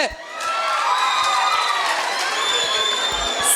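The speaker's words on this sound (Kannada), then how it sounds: "ಜೋರಾದ ಚಪ್ಪಾಳೆ." Loud cheering and shouting from a school crowd at a cultural festival, a sustained roar of young voices with whoops and scattered applause running for several seconds.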